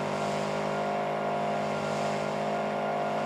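A monster truck spins donuts at an Arizona State Fair event in the BeamNG game, giving a steady, loud engine drone with a sustained rev that holds constant throughout, no talk.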